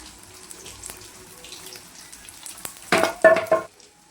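Parotta fries in oil on a pan, giving a low crackling sizzle that swells into a loud spitting burst near the end as it is flipped and more oil goes in.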